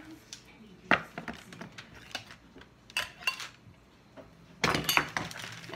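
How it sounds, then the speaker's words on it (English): Spoon stirring pizza sauce in a bowl, with scattered clinks and scrapes at uneven intervals and a louder burst of clattering near the end. "I give it a bit of a stir so that it's nicely mixed together and there's no separation"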